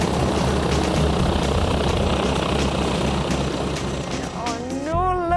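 A Boeing Stearman biplane's engine drones loud and steady close by, a continuous rumble that fills the scene, with a rising whine near the end.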